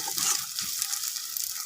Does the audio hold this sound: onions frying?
yes